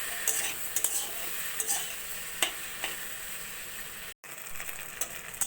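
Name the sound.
frying elephant apple and potatoes in a pan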